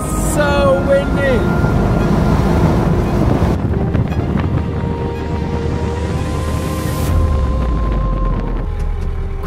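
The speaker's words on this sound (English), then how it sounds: "So windy!" Strong desert wind roars and buffets the microphone on an overland drive toward Mauritania near Dakhla, a loud continuous rumbling gust noise that fills the whole stretch with no pauses.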